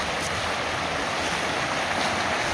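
Mahanoy Creek runs near an old coal colliery in Mahanoy City, Pennsylvania, its flowing water making a steady, dense rushing hiss that stays constant and close throughout with no voices.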